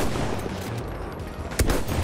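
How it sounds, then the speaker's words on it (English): Dense gunfire in the video game Battlefield 1, loud rapid overlapping shots and blasts filling the whole moment, with one sharper crack standing out near the end. "Where are they shooting me from?"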